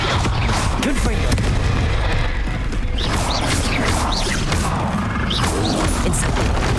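Confringo blasting spells fired in a Hogwarts Legacy battle: repeated loud crashing explosions and whooshing impacts over a constant thick rumble of combat noise, with quick spell zaps scattered through.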